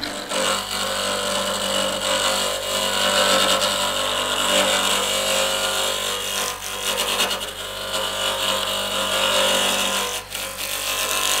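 A cherry burl bowl spins on a wood lathe at 1450 RPM, giving a steady, close whirring hum with a continuous scraping rasp from the cutting gouge, unbroken and without speech.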